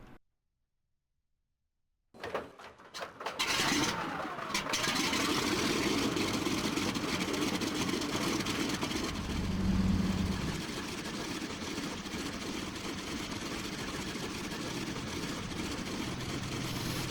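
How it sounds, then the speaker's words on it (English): Simulated C-46 Commando right engine from the Just Flight game, silent at first, then sputtering into life and settling into a steady, loud, low droning radial idle. "So right engine is humming along"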